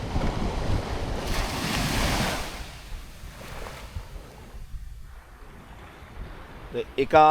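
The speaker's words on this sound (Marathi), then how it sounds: "किनारा आणि त्याच्यावरती लांब लांब नुसत्या लाटा" Ocean surf breaks along an empty beach at Vengurla on the Konkan coast, a loud rushing swell that builds and fades with steady wind noise, ending in a brief burst of noise.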